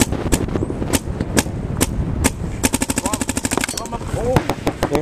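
Rapid gunfire in a shooting video game: single shots early, then a fast automatic burst, loud and continuous, while players talk over it.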